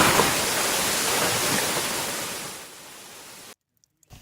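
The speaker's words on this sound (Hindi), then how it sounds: "इसकी कलकल करती आवाज जब कानों में पहुंचती है" Rushing water pours steadily from a canal supply reaching Mandsaur, a dense continuous roar that fades slightly before cutting to silence near the end.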